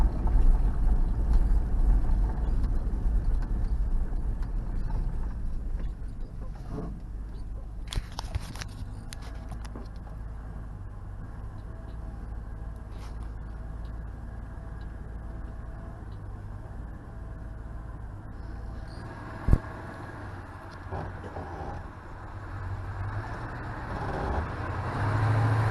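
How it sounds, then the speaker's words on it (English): An old mud truck drives through mud in four-wheel drive, its engine a steady, loud low rumble throughout, with a sharp knock near the end and no talking. "Oh yeah, four-wheel drive's working. It didn't try and spin at all."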